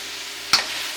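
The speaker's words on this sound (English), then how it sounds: "I'm adding my chopped up cabbage to the pan because you want it cooked with that" Chopped cabbage hits a hot pan of Jamaican corned beef with one sharp burst over a steady, loud frying hiss.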